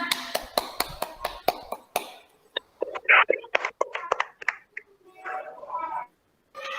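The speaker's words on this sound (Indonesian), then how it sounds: "tepuk tangan anak-anak" A few children clapping over an online class call, sharp distinct claps in a quick run that then turn sparse and irregular, with soft voices talking afterward.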